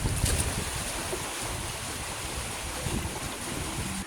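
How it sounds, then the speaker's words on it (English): Wind and waves wash steadily around a sailing boat running smoothly downwind on the open sea toward Rekohu, the Chatham Islands: a constant broad roar of air and water close by, no voices. "Didn't notice that the wind had picked up because we're so just smooth downwind right now."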